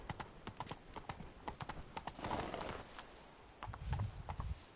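Roach the horse galloping in the video game The Witcher 3, quick rhythmic hoofbeats clip-clopping steadily throughout, fairly close, with a rougher rumble near the end.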